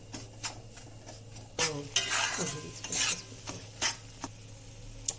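Wheat flour roasting in ghee in a pan, stirred steadily: repeated close scraping and clinking strokes over a soft sizzle, with no talking.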